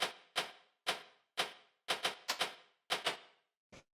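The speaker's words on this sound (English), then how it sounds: "The next thing I will show you is this little hi-hat" Dry, crisp hi-hat sample in a drum pattern, about a dozen sharp ticking hits in an uneven syncopated rhythm, close and isolated with silence between strikes.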